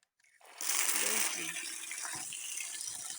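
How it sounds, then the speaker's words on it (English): Guinea corn grains being washed in water, a soft splashing and sloshing that starts after a short silence and continues steadily at low volume. "So after selecting it, I'm going to wash it."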